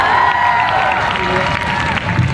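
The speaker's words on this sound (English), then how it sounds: "Let's give Megan a round of applause." A rally crowd at a Labour Day event in Singapore applauds and cheers steadily and loudly, a dense continuous wash of clapping and voices with a faint amplified voice under it.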